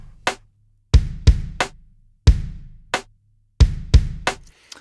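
Chest kick drum sample layered with a snare hits in a sparse, uneven pattern of about eleven loud, punchy strikes with short decays and silent gaps, alone with no talk.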